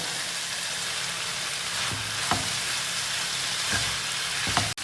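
Octopus and coconut pieces fry in a pan, giving a steady, close sizzle with a few sharp clicks and taps as they are stirred.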